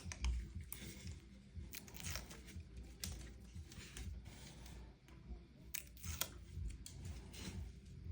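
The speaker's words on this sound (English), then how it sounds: "Bend the system tape and then just peel it off." Adhesive tape peeled off a hair system by hand, bent back and pulled away in a series of close, crackling tearing and crunching sounds that run steadily throughout with no talking.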